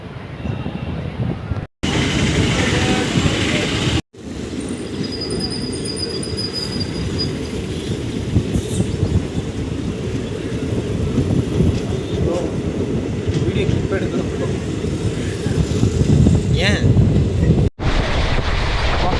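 A train rolls along at speed after leaving Needamangalam station on the Mannargudi to Mayiladuthurai route, a steady loud rumble with rattling wheels and rushing air, continuous throughout with a couple of brief cuts.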